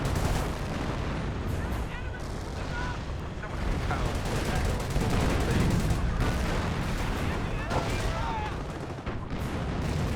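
Company of Heroes 1 artillery barrage: scattered booms and rattling gunfire rumble at a moderate distance, with a voice commentating over the battle throughout.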